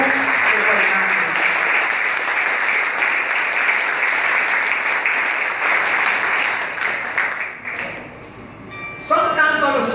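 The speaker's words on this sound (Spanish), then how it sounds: "Yo quiero darle un fuerte aplauso a mi juventud." An audience at a municipal accountability event by a mayor in Guaymate gives sustained loud applause that fades near the end before a voice speaks.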